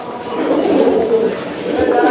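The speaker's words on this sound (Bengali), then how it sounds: "এখানে সিঙ্গেল আরো একটা কবুতর রয়েছে" Pigeons coo steadily and close by among a collection of local fancy pigeons offered for sale, a dense, continuous murmur of overlapping calls for about two seconds with no talking.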